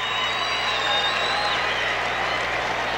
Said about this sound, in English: We have a sellout crowd in here tonight, and I mean to tell you, they are packed in here